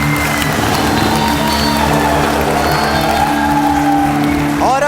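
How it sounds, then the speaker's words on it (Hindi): A large audience applauds steadily and loudly at a grand reception for Pakistan's cricket team, with the clapping sustained throughout and a voice rising faintly near the end. "भरपूर तालियां होती रहनी चाहिए।"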